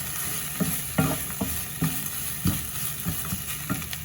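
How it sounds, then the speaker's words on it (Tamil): Grated coconut and onion stirred in a hot frying pan, a continuous sizzle broken by regular scraping strokes of the spoon roughly every half second, close and unaccompanied by talk. "தேங்காயை போட்டுட்டு ஒரு கிளறி போட்டு"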